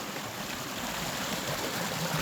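Water babbling steadily in a small stream by a little bridge on a hiking trail near Falun, Sweden: a soft, continuous rushing trickle, fairly quiet and alone.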